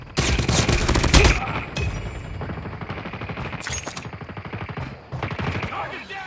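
Rapid automatic gunfire from the Call of Duty video game, loud and sustained in dense bursts with brief pauses, under game sound effects.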